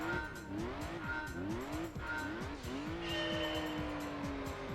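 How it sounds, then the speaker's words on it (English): A car engine in the video game Gran Turismo 3 on PS2 revs hard and climbs through repeated rising sweeps. Quick gear changes drop the pitch each time before it climbs again, loud and continuous, with a faint skid-like hiss on top. "do a little bit of revving."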